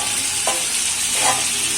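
Boiled chow mein noodles tipped into a hot pan and stir-fried, a loud continuous sizzle with two distinct scraping stirs, close and without talk.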